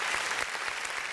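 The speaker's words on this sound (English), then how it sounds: "let's clap it up for Atlanta real quick" Audience applause for Atlanta during a podcast taping, a steady dense wash of clapping lasting about a second at moderate level, with no talk over it.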